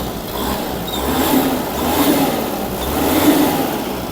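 A naturally aspirated four-cylinder diesel engine of a Kubota KL-550 mini tractor revs up in steady swells, its low throaty rumble rising and falling several times, close and loud with no talk.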